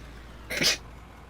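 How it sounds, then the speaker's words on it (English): A single short, sharp human sneeze bursts out close to the microphone, loud and breathy, alone against a quiet background hum. "Just sneezed."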